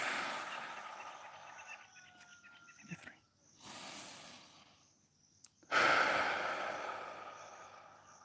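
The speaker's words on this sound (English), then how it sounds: "Taking a breath. Taking another one." Slow, deep breaths taken one after another, each a long soft airy inhale or exhale separated by quiet pauses, close and gentle, with no talking.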